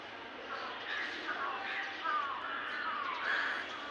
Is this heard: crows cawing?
yes